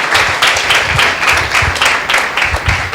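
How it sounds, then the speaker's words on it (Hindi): A church congregation gives a loud round of applause, dense, steady clapping from many hands filling the room for several seconds without any voices. "एक जोरदार ताली प्रभु यीशु मसीह के नाम को देंगे"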